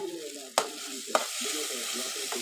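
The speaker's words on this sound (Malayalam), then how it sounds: "ഉള്ളി തക്കാളി ഇതെല്ലാം നല്ല വഴണ്ട് വന്നോ നോക്കാം കേട്ടോ." Onions and tomatoes sauté in a pan with a soft, steady sizzle, broken by two sharp scrapes or clacks of a stirring utensil, close and continuous.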